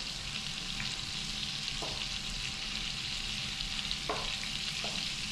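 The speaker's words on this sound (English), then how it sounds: "Just browning the fish on each side" Fish browning in a frying pan for a red fish stew (courtbouillon), giving a steady, moderately loud sizzle with a few soft clicks of a utensil against the pan, no voices.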